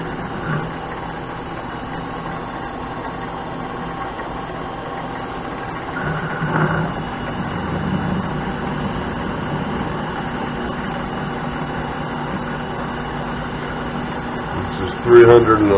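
A metal lathe cutting a thread in aluminum with a tailstock die and cutting fluid, a steady low machine hum and whir running throughout, with a brief louder scrape near the end.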